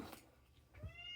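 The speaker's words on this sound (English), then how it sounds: "I think this cat wants in this room." A cat meows to be let into a room, two short cries about a second apart, the second clearer and rising, heard quietly nearby.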